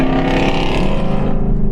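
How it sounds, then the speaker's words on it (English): Ford Mustang GT exhaust in track mode on a Pacific Coast Highway cruise, a loud continuous burbling V8 drone held steady and close throughout. "I switched the exhaust to track mode"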